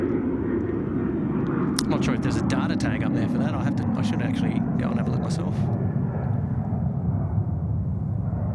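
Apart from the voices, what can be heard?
Boeing business jet taking off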